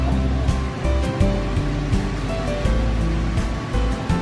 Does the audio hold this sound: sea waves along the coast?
yes